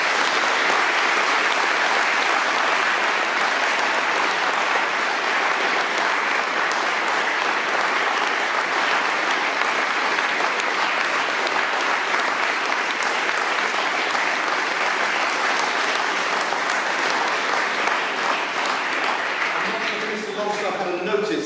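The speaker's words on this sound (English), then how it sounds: "May we finish by giving Tom a round of applause." Sustained audience applause fills a hall at the close of the Frank Terry Memorial Lecture, a dense, steady wash of many hands that holds at full strength for about twenty seconds before easing slightly at the very end.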